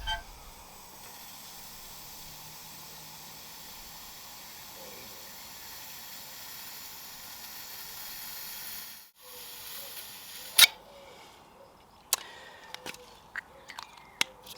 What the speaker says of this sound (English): Here's some butane gas.